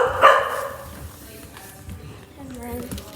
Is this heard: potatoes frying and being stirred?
no